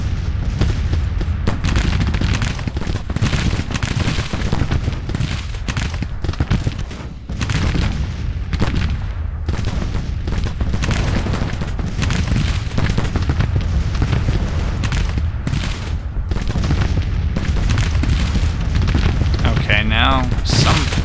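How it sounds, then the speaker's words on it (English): Artillery booms and rifle volleys fill a Civil War strategy game battle, a dense, continuous wall of loud overlapping shots and rumbling blasts with a faint voice briefly near the end. "They got guns firing at them, they got 4 other detachments shooting at them"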